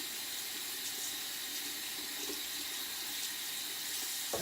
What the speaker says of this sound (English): let me rinse off this brush.